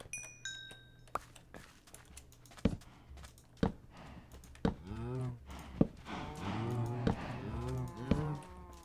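Several cows moo in the Minecraft video game, with repeated drawn-out lowing calls that overlap toward the end, mixed with sharp clicky taps and a few bright chime-like tones at the start.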